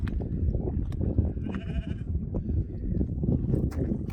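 Sheep out on the open hills of the Black Mountains in South Wales bleat several times over a loud, rumbling wind, with calls near and further off.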